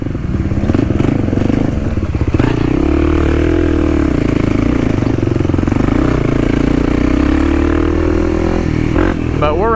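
A Kawasaki KLX 300 dirt bike rides the Hatfield McCoy trails, its single-cylinder engine droning loud and close throughout, with rising and falling revs and occasional clattering bumps.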